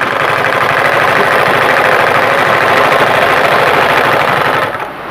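A domestic sewing machine runs steadily for about five seconds, a loud, dense, rapid mechanical chatter of stitching, easing off slightly at the very end; no voices.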